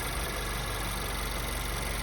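A Mazda ND Miata engine idles steadily after a coolant change, giving a continuous low mechanical hum that stays even and unbroken with no voices over it.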